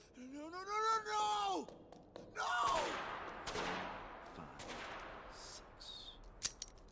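Animated-show gunshots crack out in a few sharp bursts, with a rising whistle-like tone and voices around them, fairly faint in the mix.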